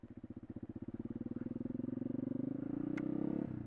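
Suzuki RM dirt bike engine approaching and passing very close on a trail, a loud, rapidly pulsing two-stroke-style drone building in volume and peaking near the end, with a brief sharp clatter just before it cuts off.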